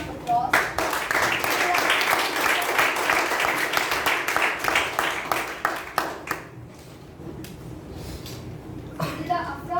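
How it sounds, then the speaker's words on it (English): An audience at a youth leadership public-speaking meeting gives a full round of applause to welcome a speaker, many hands clapping densely for about six seconds before thinning into scattered claps. "Please welcome Leader Afra Ashraf with a full round of applause."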